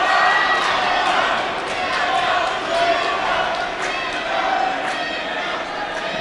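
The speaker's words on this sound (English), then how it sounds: "it sounds like the hometown crowd is actually going behind" Hometown crowd at a boxing match cheering and roaring, a loud continuous swell of voices that rises and falls slightly with a commentator's voice underneath.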